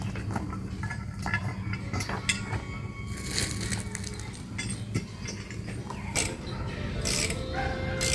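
Ratchet tightening bolts on a DIY tree stand build, a close, busy run of clicking and grinding metal mechanism sounds over rustling handling noise.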